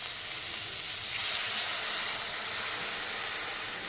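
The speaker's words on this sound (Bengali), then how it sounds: "তো এখন এই অবস্থায় আমি আমার যতটুকু জলের দরকার আমি জল দিয়ে দেব।" Water is poured into a hot pan of bitter gourd curry with turmeric, and a loud, broad sizzling hiss flares up and holds steadily, close by and alone, without any voices.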